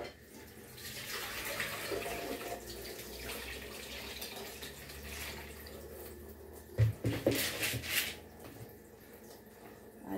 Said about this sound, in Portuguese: Agora vou lavar o feijão.